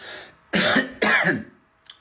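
Two harsh, close coughs in quick succession from a man ill with a cough and fever, followed by a faint short sound at the end.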